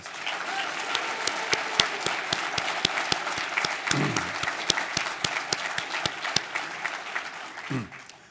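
Steady applause from an awards-ceremony audience at a metal-casting competition livestream, sustained dense clapping with a few sharper claps standing out across the whole stretch.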